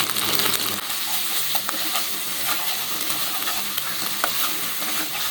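Spice paste with mustard paste and peanut paste sizzles and spatters in a pan for gravy chicken, a loud, steady crackling fry with scraping stirs.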